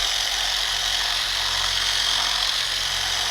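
A Liquid Elements A1000 mini polisher running on speed 2 while rubbing in product, giving a steady, even electric motor whine with a high buzzing hiss, close and continuous without pause.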